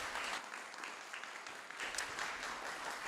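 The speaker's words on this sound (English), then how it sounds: "give one more round of applause to our wonderful interns" A round of applause from an audience honoring interns at an adult formation program on archives, a steady wash of many hands clapping throughout.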